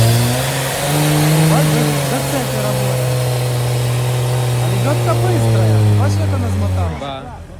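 Off-road race car engine on a circuit race with special stages, holding a loud sustained drone that climbs and settles as the automatic gearbox slips, with voices talking over it before it cuts off.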